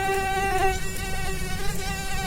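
Mosquitoes breeding in a discarded bottle in a gutter buzz steadily and close, a thin continuous whine with stacked harmonics and no voices.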